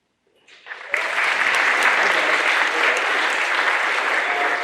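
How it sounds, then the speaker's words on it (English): An audience at a 2023 scholarship awards ceremony breaks into applause, starting with a few scattered claps that swell within a second into full, sustained clapping. "So give yourself a round of applause."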